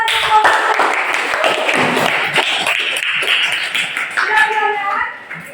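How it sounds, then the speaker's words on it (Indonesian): Students clap together in a classroom after a presentation, close, brisk and loud hand claps forming a busy patter that fades out near the end, with some voices mixed in. "Oke, tepuk tangan untuk"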